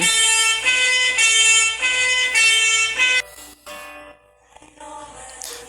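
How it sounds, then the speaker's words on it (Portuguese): A loud siren sounds in repeated even blasts, each about half a second long, then fades and breaks off into quieter background noise. "a sirene tocou"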